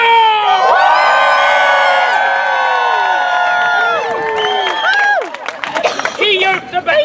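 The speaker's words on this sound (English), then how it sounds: "lords and ladies, I am Will Shakespeare, and you should cheer now!" A live crowd at an outdoor Shakespeare show on A Midsummer Night's Dream cheers and whoops loudly for several seconds. Shouting voices and scattered clapping build toward a noisy finish.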